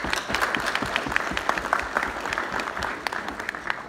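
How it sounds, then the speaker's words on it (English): Audience at the African Mining Summit 2019 applauds its ministers and deputy ministers, a steady round of dense clapping from a large crowd that holds at an even level for the whole stretch. "So a big round of applause too for our Ministers and Deputy Ministers."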